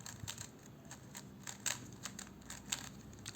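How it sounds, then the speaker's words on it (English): Plastic Rubik's cube being scrambled by hand: quiet, rapid clicks and turning rattles, a few sharper snaps, close by with no talking. "Let me shuffle this."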